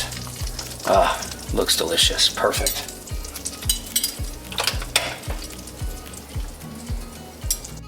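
A steak sizzles in a cast iron pan as butter sauce with olive oil is spooned over it for basting, a steady crackling fry with clinks of a spoon against the pan and brief talk near the end.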